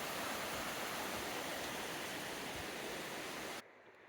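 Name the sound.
mountain creek flowing in forest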